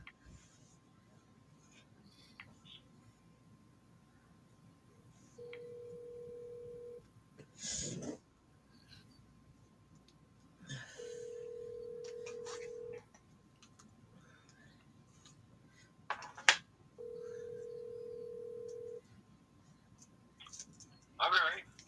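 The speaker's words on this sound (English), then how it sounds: "So let me call Len." A telephone call is placed: faint keypad clicks and dial sounds, then three evenly spaced ringback tones of about two seconds each with pauses between, sounding thin and quiet through the line.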